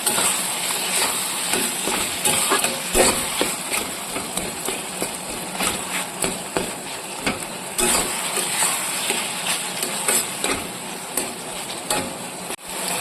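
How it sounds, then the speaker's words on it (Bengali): Taro greens and stalks stirred with sugarcane jaggery in a pan for a hilsa fish-head dish, a steady scraping and sizzling that continues close up throughout, with no talking. "এবার ভালো করে একটু নেড়ে নেব"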